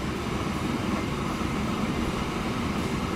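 Freight train locomotive heading out to haul iron ore in Transport Fever, passing near a town and airport over a bridge: a steady, continuous rumble of rolling wagons and engine drone at moderate level.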